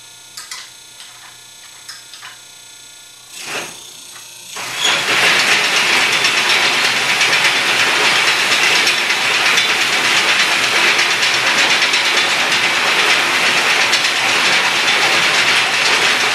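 A hay elevator's motor starts after a few knocks and clunks, then runs loud and steady with a continuous mechanical rattle and grinding roar close by.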